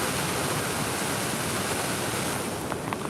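Water rushing behind the ice of a frozen waterfall makes a steady, dense roar that fills the whole clip evenly, with no voices.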